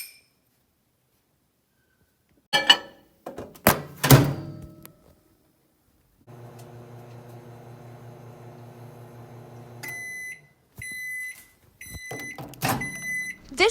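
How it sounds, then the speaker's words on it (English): Clunks and a door thud, then a microwave hums steadily for several seconds before a run of beeps and more clatter. "Now you're going to pop this mixture into the microwave for 30 seconds"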